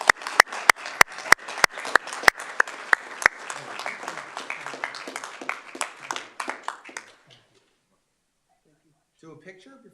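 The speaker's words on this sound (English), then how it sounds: "Let's give them one more round of applause." Audience applause at a city council meeting, with sharp loud claps close by over scattered clapping, thinning out and stopping around seven seconds, then a few quiet voices.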